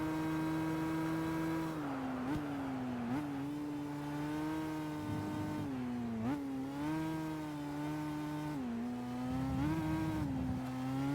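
Race car engines of opponent cars in Gran Turismo 5 drone loudly and steadily throughout, their pitch dipping and climbing again at gear changes, with several engine tones overlapping.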